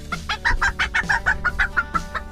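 Cochin bantam hens cluck close by in a quick, uneven run of short, throaty calls, loud and with no talking.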